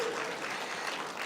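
An audience claps at a UN forum session in Barbados, a dense, even wash of applause from many hands throughout the short moment.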